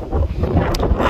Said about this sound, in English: I hope it's not too windy though, the video.